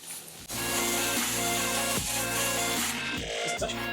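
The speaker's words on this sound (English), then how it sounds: "Take our hose and" Steady loud hissing rush of a hose spraying water onto an Axial Basecamp RC rock crawler in a wash area, continuous throughout with a few brief shifts in pressure.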